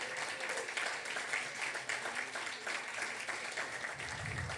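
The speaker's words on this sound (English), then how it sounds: "let's hear a big round of applause for all the speakers and all the judges who came out" Audience applause at a marketing panel during a New York conference, a dense, steady wash of many hands clapping that fills the whole stretch without letting up.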